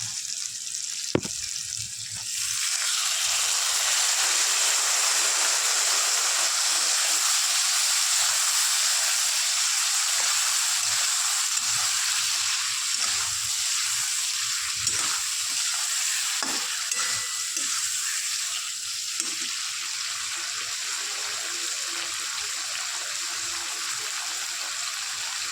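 Cumin and green chillies fry in hot oil in a pan for a fish curry, a bright steady sizzle with hiss, broken by occasional stirring scrapes and clinks; one sharp sound at the start before the sizzle rises.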